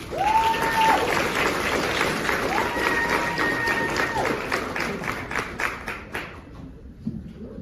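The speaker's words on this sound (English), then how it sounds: "Please give a warm round of applause to Bailey Romatowski." Audience applause at a live podcast recording during an event, dense clapping with a few cheers that holds strong for several seconds, then thins out and fades near the end.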